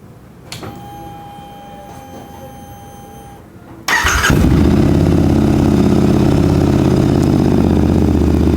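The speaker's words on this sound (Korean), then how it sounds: "아이들링 시에 GP 머플러하고는 조금 다른 소리가 납니다. 큰 차이는 없지만 약간 더 타격감이라고 해야 될까요? 타격감 있는 소리가 나고요." After a quiet stretch, a Royal Enfield Interceptor 650 fitted with an SC-Project Conico long exhaust fires up abruptly and settles into a loud, close, steady thumping idle.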